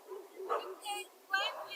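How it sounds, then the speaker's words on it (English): Guard dogs bark and whimper at midnight in a few short, sharp bursts, mixed with a person's agitated talking nearby. "You are agitating my dogs."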